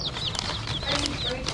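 Chickens cluck and chirp briefly at close range over a busy background murmur, short repeated calls in a quick cluster.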